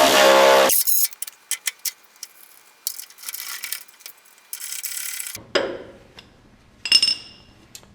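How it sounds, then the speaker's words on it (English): A ratchet bolts an upper control arm adapter onto a Ferrari F355 front suspension, giving quick metallic clicks and clinks in short bursts after a brief opening noise, with gaps of near silence between. "Let's go ahead and get the upper control arm adapter bolted up"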